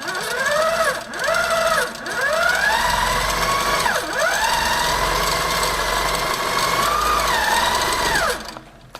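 A Handi Quilter longarm quilting machine stitches a quilt, its motor whining steadily and rising and falling in pitch as the head speeds up and slows, with brief pauses near the start and a stop at the end.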